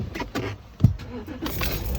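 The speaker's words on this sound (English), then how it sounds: "So let's get in the car." Someone gets into a car at a vineyard, with keys jangling and a door thud amid rustling and handling noises, close and moderately loud.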